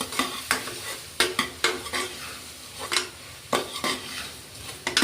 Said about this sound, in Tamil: கொஞ்சம் மஞ்சத்தூள் போட்டுக்கிட்டு அதை அப்படியே மிக்ஸ் பண்ணிக்கணும்